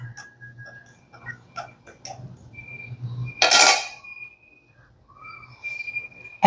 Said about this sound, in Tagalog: Mix ko lang ito maigi.